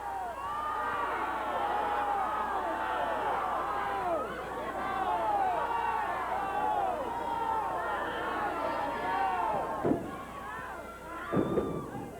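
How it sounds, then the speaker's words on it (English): A wrestling crowd at a 1989 Stampede Wrestling show roars continuously and wildly, a dense sustained mass of shouting and cheering at close range, with brief sharp bangs near the end. "Boy, this crowd is getting wild."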